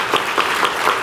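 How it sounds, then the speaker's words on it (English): Audience applause at a pro bono legal services awards ceremony, a short steady patter of many hands clapping with a few louder claps standing out. "That's worth applauding."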